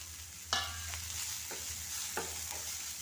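Tomato, curry leaves and a sautéed mixture frying in a pan for a Kerala theeyal, a quiet constant sizzle broken by a few spoon scrapes and stirring clinks, near and without speech.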